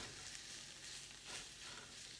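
Sausage crumbles sizzling in a pan alongside spinach, a soft, continuous frying hiss with faint stirring scrapes, heard alone and at low volume.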